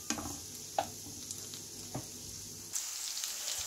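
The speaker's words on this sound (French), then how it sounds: "Je vais faire revenir jusqu'à ce que l'oignon obtienne une belle couleur dorée." Chopped onion frying in a pan, a soft steady sizzle broken by a few sharp scraping stirs, fairly close and quiet, with no voices.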